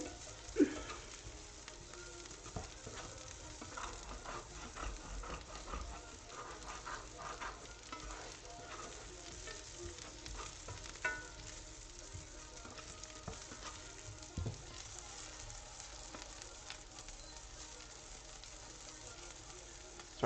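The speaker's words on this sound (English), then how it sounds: "I'm just sauteing onions" Onions sautéing in a pan with butter, a steady soft sizzle and crackle running throughout at moderate level, with occasional small clinks and stirring sounds.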